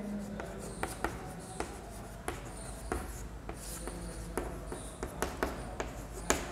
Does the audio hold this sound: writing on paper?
yes